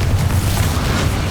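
A Confringo blasting spell in Hogwarts Legacy goes off as one loud, booming explosion. The heavy, rumbling roar fills the whole short moment.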